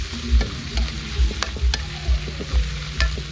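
Garlic and shallots stir-fried in a pan: a steady sizzle broken by rhythmic scraping and clinking of the utensil against the pan, about twice a second, close and loud.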